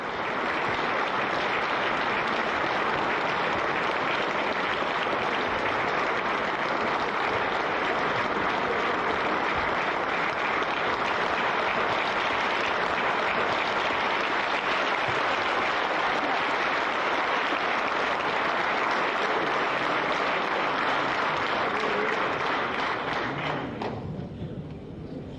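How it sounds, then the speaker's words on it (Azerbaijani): A hall audience applauding a head of state on arrival, dense continuous clapping from a large crowd that holds steady for about twenty-five seconds before tapering at the end. "Salona toplaşanlar dövlətimizin başçısını hərarətli alqışlarla qarşıladılar."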